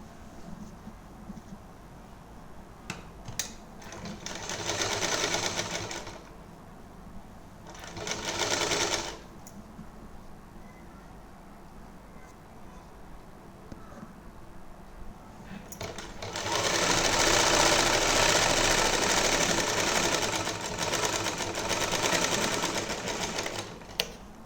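Sewing machine stitching a cross-belt seam, running in several bursts: two short runs early, then a long steady stretch of close, loud whirring stitching.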